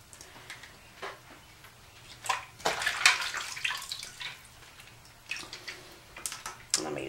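A Denman brush and comb are washed in a sink, giving scattered splashes, drips and soft scrubbing clatter at close range, with louder bursts of water every few seconds and no talking.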